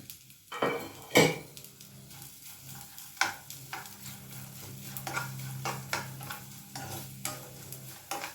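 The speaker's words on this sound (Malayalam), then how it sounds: "നെയ്യിൽ കുറച്ച് നാളികേരപ്പത്ത് ഫ്രൈ ചെയ്തെടുക്കാം" Coconut pieces frying in ghee for a traditional Palakkad sweet, a steady soft sizzle under repeated scraping and stirring with a spoon against the pan, with occasional metallic clinks.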